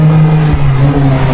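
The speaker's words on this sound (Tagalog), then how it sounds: "Sasakyan!" A car goes by on a road in Tagaytay, a loud close engine drone and whir that holds steady through a brief moment.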